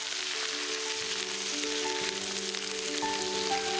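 Chicken giblets fry with spices in a pan, giving a steady, close sizzle with soft crackles throughout and no talking.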